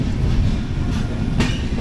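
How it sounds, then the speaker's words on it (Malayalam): The 16217 Mysuru-Shirdi Express standing at or rolling through Belapur railway station gives a steady, loud rumble of rail wagons that fills the whole clip, with a brief brighter burst of hiss near the end. "ഇതാണ് ബേലാപ്പൂർ സ്റ്റേഷൻ."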